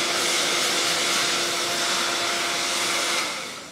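Steady whooshing roar of a hair dryer blowing on a wig, close and continuous, easing off slightly at the end before a sharp click.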